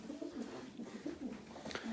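Soft, repeated cooing of a pigeon at a bird market, low and rolling, heard close by with faint background noise.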